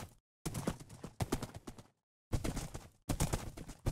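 Horse hooves clip-clopping in the Minecraft video game, heard in short bursts of rapid hoofbeats separated by brief silent gaps, fairly close and clear.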